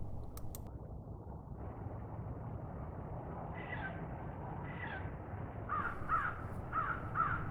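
A crow gives a melodic, pleasant call, several short bursts in a row that grow a little more frequent toward the end, heard at moderate distance over a steady background hum.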